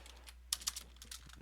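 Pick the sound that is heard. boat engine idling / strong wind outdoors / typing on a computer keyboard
typing on a computer keyboard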